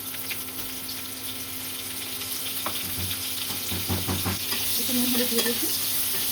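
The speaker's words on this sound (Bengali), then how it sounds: "প্রথমে ফুলকপি আর শিমটা একটু ভেজে নেব।" Steamed cauliflower and beans fry in hot mustard oil with a continuous close sizzle, stirred now and then, while a voice speaks briefly near the end.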